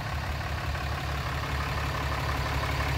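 A 2015 Ram 3500 Laramie with a 6.7 liter Cummins diesel engine and a lift idles close by, a steady low rumble holding constant throughout with no voices.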